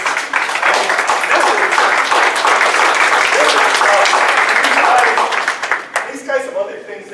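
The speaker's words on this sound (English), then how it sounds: "let's give an applause for anybody who wants to go into public service" An audience at a candidate night event applauds the candidates: a loud, dense, sustained wash of clapping that tapers off near the end as a voice comes in.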